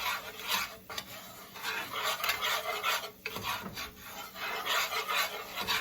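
A whisk scrapes and rasps steadily around a pan of cream Creole sauce over medium heat, close and continuous with a rough, rhythmic rubbing texture and no talking.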